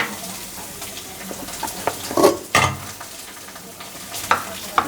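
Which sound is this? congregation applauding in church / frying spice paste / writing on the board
frying spice paste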